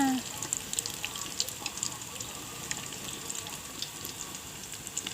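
Snow flower snacks fry in hot oil with a soft, continuous sizzle and scattered faint crackles, while a voice murmurs in the background.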